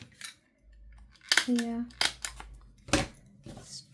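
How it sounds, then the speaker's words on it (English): Scissors cutting while a cluster piece is trimmed for a cross-stitch project, a few sharp close snips and rustles, partly overlapped by a brief spoken remark. "these scissors need a clean"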